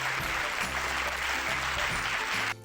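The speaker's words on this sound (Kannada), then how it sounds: "ಎಲ್ಲ ಚಪ್ಪಾಳೆ ತಟ್ಟಬೇಕಪ್ಪ" A small group applauds a child's recitation, a dense burst of clapping for over two seconds that stops abruptly, with faint murmuring voices underneath.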